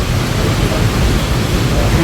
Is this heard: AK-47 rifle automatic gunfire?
no